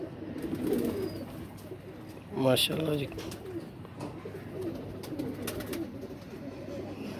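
Kasuri pigeons coo in a steady, soft background, while someone speaks briefly over them near the middle.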